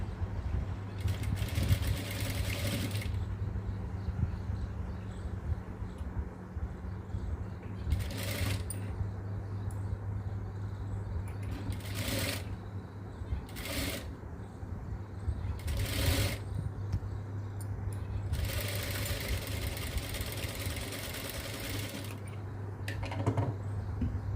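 A sewing machine stitches pieces of a baby dress together, its steady mechanical hum running throughout with several short bursts of faster, louder stitching at close range.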